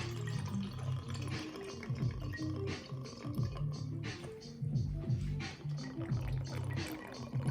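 Apple cider pours and splashes into a moonshine cocktail glass in a steady, close, continuous stream with faint scraping and dripping, no speech.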